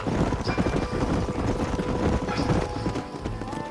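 Horses' hooves clip-clopping in the Red Dead Redemption western video game, a steady trotting rhythm of several horses under light wind, close and moderately loud.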